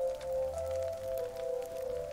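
In the survival game Sons of the Forest, steady rain falls around a shelter near a mansion build, a soft continuous patter under a faint steady tone with no talking.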